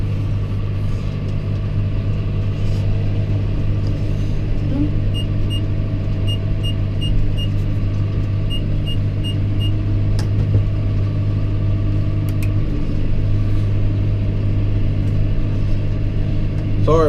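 A tractor runs steadily while baling hay, its engine a constant low rumble heard from inside the cab, with faint rhythmic ticking and occasional clicks throughout.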